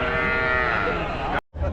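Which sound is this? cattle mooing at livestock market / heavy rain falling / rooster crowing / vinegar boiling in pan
cattle mooing at livestock market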